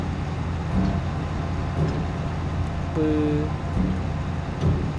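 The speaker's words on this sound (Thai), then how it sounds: "ฟังเสียงเร่งเครื่อง" A KOBELCO SK200-10 excavator's engine revs in Farming Simulator 22, a steady low mechanical drone with gentle surges in intensity and a brief tonal whine partway through, heard up close.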